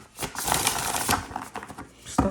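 A deck of cards being shuffled in a quick riffle, with a rapid burst of flapping clicks, a brief pause, then a final tap as the cards settle.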